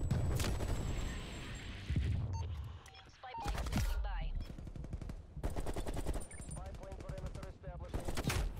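AK-74 automatic fire in Black Ops Cold War, loud rapid bursts crackling in several runs with short pauses between them, under game noise and some talk.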